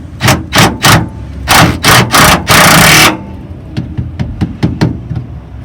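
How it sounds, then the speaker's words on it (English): An impact wrench runs a nut onto threads during shock replacement on a Ford Super Duty, firing in loud, rapid hammering bursts, one longer sustained run, then several quicker short taps as the nut snugs up. "my impact here just to get some turns on these threads, so I don't have to screw around for too long up here"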